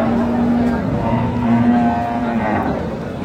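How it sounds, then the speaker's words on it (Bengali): A cow with her calf at a busy rural cattle market gives a sustained low moo, close and clear over the murmur of the crowd. "গাভী বাছুর আমরা দেখছিলাম এখানে"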